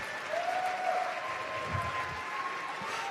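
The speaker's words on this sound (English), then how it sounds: "Hey, round of applause for Jill, please." Audience applause at an Ignite Seattle talk event, a steady moderate patter of clapping from a crowd, continuous and fairly even throughout with no voices over it.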